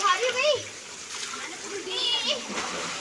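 Children splashing and playing in a small village swimming pool in the hills, water sloshing and splattering near the microphone while young voices call and chatter over it.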